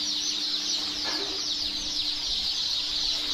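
Local chicken chicks in a poultry hatchery stock room, a dense, continuous chorus of high cheeping from many birds at once, steady throughout with no talk.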